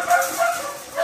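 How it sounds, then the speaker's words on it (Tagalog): Large dogs bark and yip at a house, a couple of short, loud barks close by within about a second, slightly muffled and without speech. "Yan, mga nakakawala yung mga aso."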